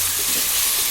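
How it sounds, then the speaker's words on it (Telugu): A mutton liver curry base of softened tomatoes and salt is stirred in a pan, giving a brief, steady, close hissing sizzle with no voices. "ఒకసారి కలుపుకుంటాం."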